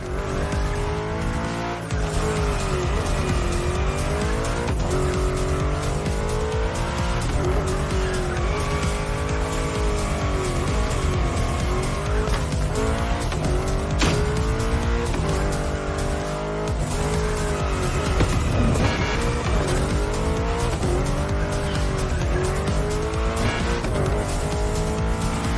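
In the racing game The Crew Motorfest, a drifting car's engine whines and swells as its tires squeal through long, repeated slides, a continuous loud mix of revs and skidding.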